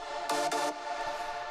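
A bright trance lead synth preset from Nexus plays a short two-note phrase with a quick attack and sustained tone, loud and alone, then fading.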